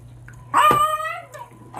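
Dog at feeding time, a close, loud whining bark with a rising yelp, followed by a shorter, softer whimpering sound and the start of another vocalization.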